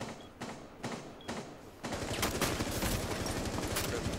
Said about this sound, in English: they're shooting too